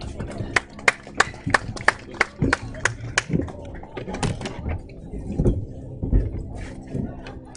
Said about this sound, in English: They deserve a good round of applause.